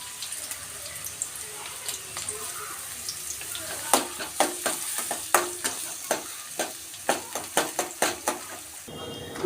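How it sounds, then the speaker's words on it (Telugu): Onions and green chillies fry in a pan for a mushroom masala curry, giving a steady sizzle with a run of sharp stirring scrapes and clicks in the second half, with no voices. "ఉల్లిగడ్డలు, పచ్చిమిర్చి వేసి అది దోరగా వేగేదాకా"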